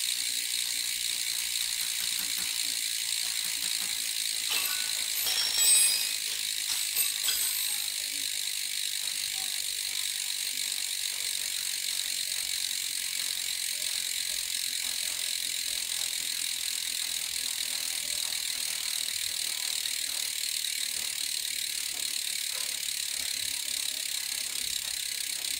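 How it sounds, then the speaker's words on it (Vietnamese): Full-carbon Tropix Milan racing bicycle wheel spinning freely, its freewheel ratchet giving a steady, fast, even clicking that runs on without slowing, faint and close, with a brief louder mechanical rattle early on. "Bánh carbon nhưng trọng lượng siêu nhẹ nên là nó quay rất là lâu"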